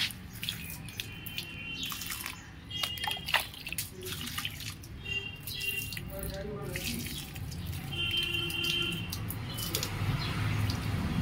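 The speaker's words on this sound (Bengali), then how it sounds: "গাছগুলোতে এখন একটু জল দেবো" Running water pours and splashes over potted balcony plants in a steady wash, close by, with a few drips, light clinks and a voice talking softly underneath.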